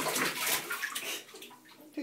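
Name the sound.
water splashing in a pool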